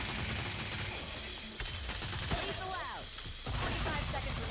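Rapid video game gunfire from a character whose fire bullets deal extra damage, dense bursts of shots crackling over busy combat effects, fairly loud and continuous with brief dips and a short swooping effect midway.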